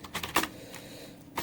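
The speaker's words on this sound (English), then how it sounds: "if I click here and I type in a path to," Quick keystrokes on a computer keyboard as a file path is typed, a short burst of close, light clicks with a pause and one final tap.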